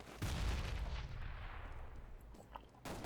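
Gunfire in Counter-Strike: Global Offensive, with one sharp, loud shot followed by a rumbling decay and a few faint later pops.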